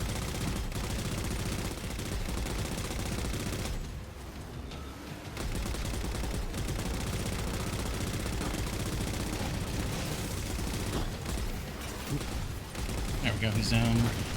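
Gunfire in Halo 4 co-op play on Legendary, with rapid shots crackling continuously through a dense, busy battle mix over nearly fifteen seconds, with a brief lull midway.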